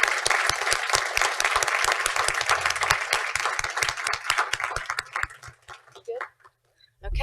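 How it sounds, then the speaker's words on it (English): An audience at a municipal candidates forum claps for the candidates in a steady round of applause that thins out into scattered claps near the end. "Let's give these leaders a round of applause"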